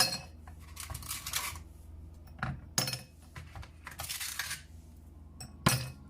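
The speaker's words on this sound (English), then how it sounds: "I'm gonna put just 2 cubes of ice" Ice cubes dropped into small glass mason jars of green juice, several bright clinks and clatters in uneven bursts, close and fairly loud.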